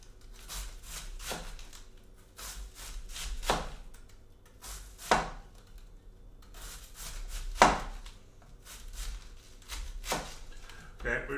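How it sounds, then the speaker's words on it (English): A knife chopping cabbage finely on a board, a series of separate sharp cuts in irregular bursts with quiet gaps between them, close and crisp. "we chop this fine"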